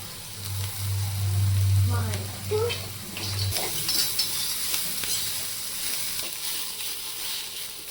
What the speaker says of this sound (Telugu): తర్వాత క్యారెట్ తురుము వేస్తున్నాను,